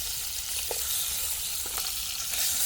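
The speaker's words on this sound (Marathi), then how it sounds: "फक्त मीठ आणि तेलामध्ये फ्राय" Fish sizzles steadily in hot oil with salt over a campsite fire, a continuous close frying hiss with a few soft clicks and pops, no talking.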